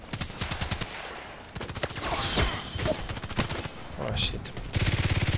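Video game gunfire crackles in rapid, repeated automatic bursts, loud and close, with brief pauses and a sustained volley near the end; a voice briefly exclaims partway through.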